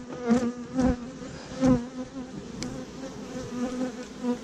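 Honeybees buzz steadily and close by as nucleus hives are moved into full hives, a continuous droning hum with several louder swells as individual bees pass near.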